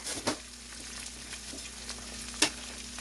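An egg cooks in a frying pan for a breakfast sandwich with a soft, steady sizzle and a couple of sharp clicks near and far apart.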